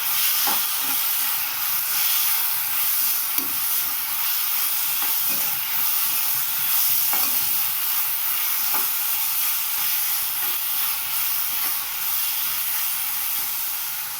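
Vegetable roll stuffing seasoned with salt and soy sauce steams and sizzles in a pan as it is stirred, a steady broadband hiss with faint scraping touches throughout and no voices.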